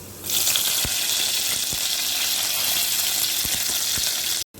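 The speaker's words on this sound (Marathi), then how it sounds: "आपण मेथी टाकली कढीपत्ता टाकूया ती थोडीशी लालसर झाली तर कढीपत्ता टाकून देऊया" Curry leaves and fenugreek seeds hitting hot oil for a spicy small-prawn curry, a loud sudden sizzle that holds as a dense crackling hiss with a few soft pops, close and without talk.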